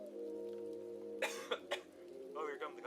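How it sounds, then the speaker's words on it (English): A few short, harsh coughs burst out one after another over a steady low hum, with a rougher throaty sound near the end. "here come the coughs"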